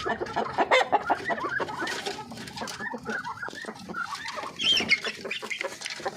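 Native Darag hens in a backyard farm cluck busily and continuously, several birds close by with overlapping calls and a faint crow in the mix, little else audible.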